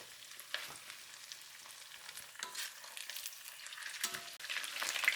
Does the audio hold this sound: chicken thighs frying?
yes